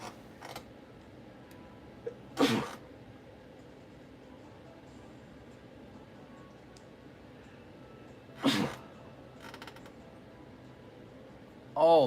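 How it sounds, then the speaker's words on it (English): Two sharp, loud sneeze-like bursts break a quiet background, one early and one later, with another starting at the very end. "I gotta sneeze still"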